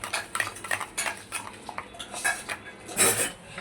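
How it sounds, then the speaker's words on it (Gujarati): Curd with sugar and salt stirred in a bowl, giving repeated spoon scrapes and clinks against the bowl in an uneven rhythm, close and fairly clear, with no talking. "આપણે ખાંડ ઓગળી જાય ત્યાં સુધી દહીંને ચલાવીને એક રસ કરી લેવાનું છે"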